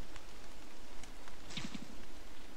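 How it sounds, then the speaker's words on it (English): Rain falling in the survival game Don't Starve, a steady soft wash of drops that runs through the whole stretch at an even level, with a brief brighter patter midway and no talk over it. "Rain definitely hurts us."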